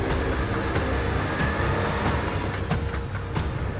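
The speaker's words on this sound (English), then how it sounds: "And we're off." A Volvo truck with an automatic transmission starts and pulls away, its loud steady engine rumble filling the space alongside air-brake hiss and a faint rising whine, with no talking.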